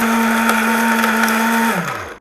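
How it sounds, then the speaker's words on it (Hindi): Atomberg BLDC mixer grinder grinding turmeric, a loud steady high motor whine with grinding rattle that runs evenly, then winds down in pitch and cuts off at the end. "लोड यह मिक्सी हल्दी की पिसाई करने में ले रही है। बिल्कुल स्मूथ चल रही है"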